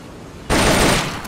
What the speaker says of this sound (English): Select a target and squeeze off a round or two.